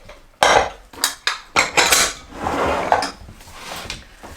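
Dishes and metal utensils clatter and clink as someone tidies a kitchen after baking chocolate shortbread cookies, a run of close, loud scrapes and knocks with brief pauses and no talk.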